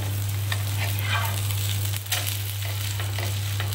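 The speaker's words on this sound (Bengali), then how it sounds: "গ্যাসের আঁচটা কমিয়ে বাড়িয়ে আমি এটাকে খুব ভালো করে একটু সময় নিয়ে এটাকে ভাজবো।" Vegetables fry steadily in a pan on a gas stove, a continuous close sizzle with occasional stirring scrapes over a low steady hum, no talking.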